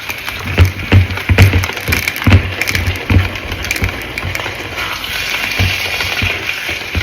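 Potato gnocchi being gently stirred through reheated sauce in a pan, giving close, soft irregular clicks and thumps of a utensil and dumplings, busiest early and thinning toward the end.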